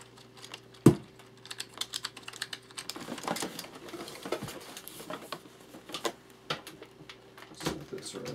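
Fingers tap quietly on a Razer keyboard indoors in a soft, irregular patter of key presses, with a sharp knock near the start.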